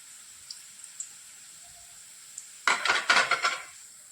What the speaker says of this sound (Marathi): भजे तळत असताना आपल्याला गॅस मध्यम ठेवायचा आहे